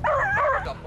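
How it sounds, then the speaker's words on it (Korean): A whippet barking fiercely at other dogs in a park, a single short, high, strained yelping bark with a whining edge, loud and close. "공원에 들어서자 더 매섭게 짖기 시작하는"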